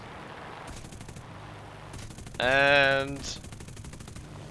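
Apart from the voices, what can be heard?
Mark 5B cannon fire from a P-47 in War Thunder video game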